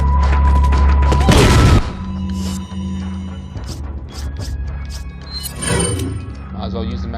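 A grenade blast in Resident Evil 4 opens with a loud, heavy boom, followed by scattered smaller impacts and game effects.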